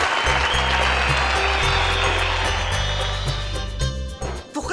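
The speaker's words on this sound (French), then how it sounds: "Applaudissez donc grand-mère." A studio audience applauds grandmother at a game-style contest, steady dense clapping for several seconds over a bed of television music, fading out near the end.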